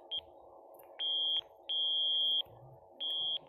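Steady electronic tone beeps from an alarm during a fire alarm test at an airport, four clean high-pitched beeps of uneven length, moderately near over a low background hum.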